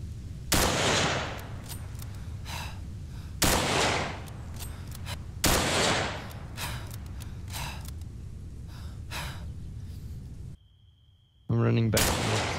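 Lee Enfield Mk III bolt-action rifle shots in the video game Breaking Point, three loud sharp cracks spaced a few seconds apart over steady game ambience, with a brief quiet gap and a tone near the end.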